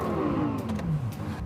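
Lexus LFA 552bhp V10 supercar engine revving hard, a loud, close snarl whose pitch sweeps quickly across the short burst before easing off.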